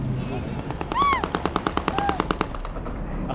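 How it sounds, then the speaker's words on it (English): Rapid bursts of automatic gunfire ring out in Syria, a regular string of sharp cracks near and fairly loud, with a brief voice and other background noise around them. "Despite the gunfire, are you happy?"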